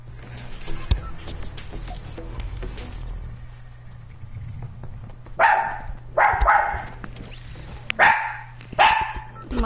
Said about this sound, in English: My stupid motherfucking dog, bro. Hey, when she barks.